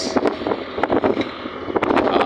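Gusty wind buffeting the microphone with a rumbling, uneven roar, punctuated by brief bursts and rattles over a steady engine-like drone.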